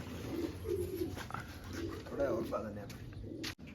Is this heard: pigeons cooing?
yes